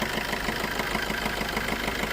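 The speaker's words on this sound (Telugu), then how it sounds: "సో ఒకసారి ఇంజిన్ అయితే స్టార్ట్ చేస్తానండి సౌండ్ ఎలా ఉంది అంటే చూద్దాం" A 2020 Maruti Swift Dzire diesel car, about 154,000 km on it, idles with a steady, even engine rattle heard close up, low in level and without speech.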